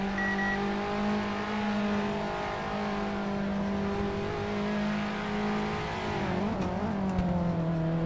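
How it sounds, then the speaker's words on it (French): Onboard a Clio Cup race car in Assetto Corsa at Ledenon, where a steady, loud engine whine holds nearly constant, then shifts briefly in pitch near the end. "On est dans la voiture de Franchitti, Pro Team Racing"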